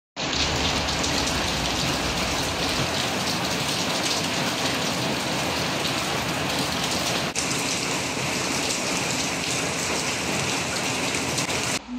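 Heavy rain pours down steadily during a flood, a loud, dense wash of drops drumming on surfaces for the whole stretch with no break and no voices.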